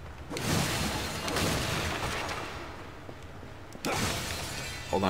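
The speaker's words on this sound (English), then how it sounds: "Hold on, I gotta finish smashing all the things." Breakable objects being smashed in the action video game Darksiders 2, giving loud, dense crashing and shattering bursts with a fresh sharp break near the end, all over continuous game noise.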